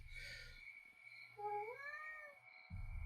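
A house cat gives one clear, drawn-out meow with a rising and then falling pitch near the middle. Faint background sounds and soft knocks come before and after it.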